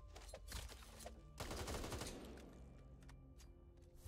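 Rapid automatic gunfire from the co-op zombie shooter game Back 4 Blood rattles out in quick, dense bursts, fairly close and faint overall, with short pauses between volleys.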